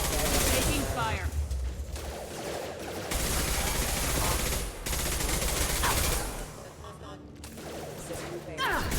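Video game gunfire in Mass Effect: dense rapid bursts of shots rattle loudly and nearly continuously, with brief gaps, while a voice speaks over the combat.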